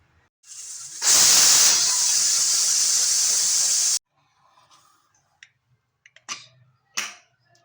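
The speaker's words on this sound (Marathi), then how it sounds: "आपण आता याला 1 शिट्टी देऊन घेऊया" A loud, steady hiss of steam bursting from a pressure cooker whistle, cooking green chickpea pulao, for about three seconds, then cutting off abruptly, followed by a few faint clicks and clatters.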